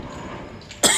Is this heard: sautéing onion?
no